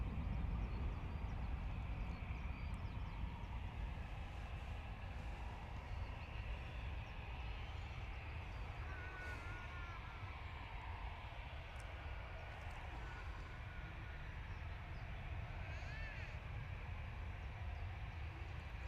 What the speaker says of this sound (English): Our next EasyJet, A320, GEZW8, is off to Montpellier